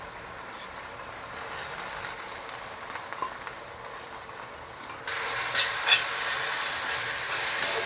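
Ginger garlic paste goes into a pan of softened onions, giving a steady loud hissing sizzle that jumps abruptly louder and brighter partway through.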